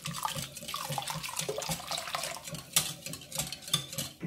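Lukewarm milk is poured into a bread dough mixture of activated yeast for yogurt rolls, giving a close, steady liquid pour and splash with faint stirring and no talk.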